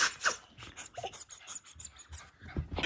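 A puppy pants in quick, uneven breaths close by, with soft snuffles and small rustles and no talking.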